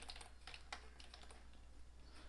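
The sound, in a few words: typing a website name on a computer keyboard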